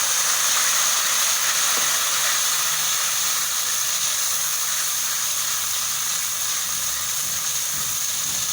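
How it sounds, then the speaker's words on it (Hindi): Garlic, ginger and green chili paste frying in hot oil for chana pulao, a steady broadband sizzle and hiss that holds evenly loud throughout with no talking. "और इसको अच्छे तरीके से हम भून लेते हैं।"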